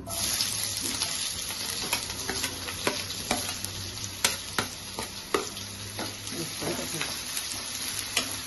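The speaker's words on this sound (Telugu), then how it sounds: "కొంచెం జీలకర్ర వేస్తాను. ఉల్లిపాయ వేసేసుకోవాలి." Onion and cumin fry in oil in a pan for a vankaya aloo tomato curry, giving a steady sizzle with repeated scraping stirs and clicks of a spoon against the pan.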